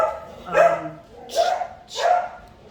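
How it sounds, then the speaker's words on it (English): A dog barks three times at close range, each loud bark spaced about a second apart with a slight whine before the first. "dog's got to bark, so he's jumping"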